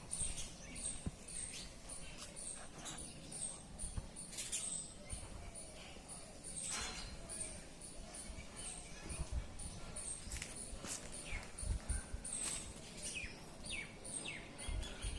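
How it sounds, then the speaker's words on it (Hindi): Small birds near a village house keep up a steady twittering and chirping against a constant high insect-like trill, with scattered rustles and taps close by. "ये चिड़िया की आवाज सुनो"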